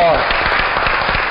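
Applause at a municipal ceremony honoring a mayor, a short burst of claps, fairly loud and dense, with a voice audible briefly at the start.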